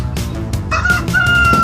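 An elderly hen clucks in an animated drama, a few short bursts and a sustained squawk-like call rising over a steady low background bed, fairly close and clear.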